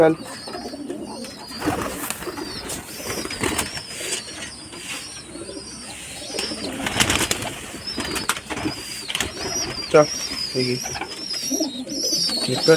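Pigeons coo and flutter around, with wingbeats flapping now and then, while a person calls out a few words nearby.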